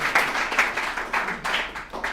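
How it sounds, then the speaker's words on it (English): A short burst of crowd applause, steady claps blending into a bright wash that swells and dips over a couple of seconds. "Let's give him a round of applause."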